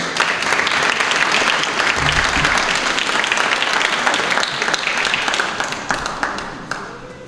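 A large audience at a student award ceremony gives loud, dense applause for an honoree, sustained for several seconds before gradually tapering off.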